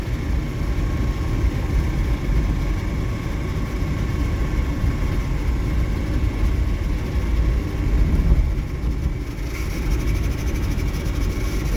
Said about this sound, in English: Something sounds clanky and rattly.